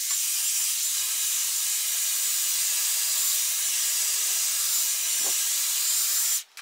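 Dyson Airwrap smoothing tool on a hot heat setting and hot airflow, drying hair with a steady, loud, close hiss of rushing air that continues almost unchanged before cutting off abruptly at the end.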